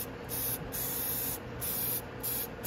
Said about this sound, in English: I'll give it a spray right now and just show you how fast it comes off